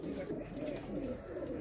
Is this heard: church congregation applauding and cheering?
no